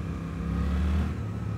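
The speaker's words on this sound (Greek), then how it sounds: "Νευρικός, νευρικότατος ο κινητήρας του." A close Suzuki motorcycle engine runs steadily with a low, throaty rumble and slight fluctuations in pitch, as if idling high or being lightly revved, at a Suzuki festival.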